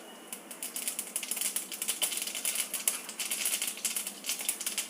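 Mustard seeds crackle and pop in hot oil for a Tamil poricha kuzhambu made with drumstick and potato, a dense run of quick, sharp, irregular spits throughout, fairly faint with no voices.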